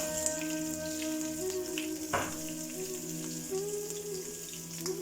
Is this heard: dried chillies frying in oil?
yes